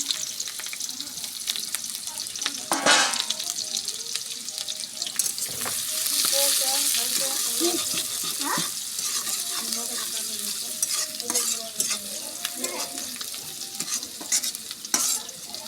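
Sliced onions and a green chili frying in a pan: a continuous close sizzle broken by occasional sharp spoon scrapes and clatters, with faint background noise and no clear speech.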